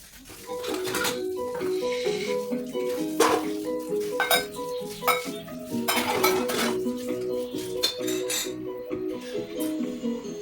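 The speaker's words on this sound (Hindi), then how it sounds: "यहाँ पर मैं सारा बर्तन धो ली थी और उसके बाद यहाँ पर खंगाल रही हूँ" Washed steel utensils and dishes being rinsed and stacked in a home kitchen, a busy run of close metallic clinks and clatters with faint water underneath.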